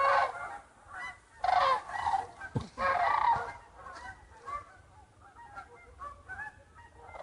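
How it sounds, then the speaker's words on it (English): Sandhill cranes and geese call in a loose, overlapping chorus outdoors, with sharp bursts and quieter stretches between calls. "And some sandhill cranes and some geese."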